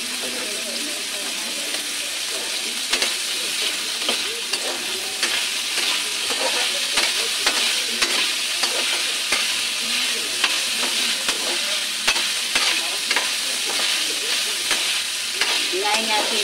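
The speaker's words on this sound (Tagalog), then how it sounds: "Paluto na yung karne." Meat for sotanghon con carne frying in a pan, a steady close sizzle with stirring and scraping clicks throughout, under low background chatter.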